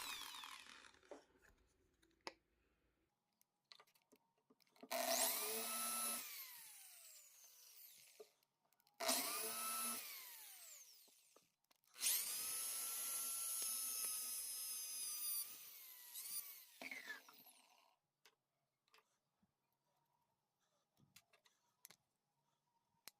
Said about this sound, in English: For making the holes, I'm using step drill bit.